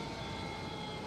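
An airplane departs in the airport management game Airport CEO, producing a steady, broadband engine roar that holds constant and fairly faint throughout, with no voices over it.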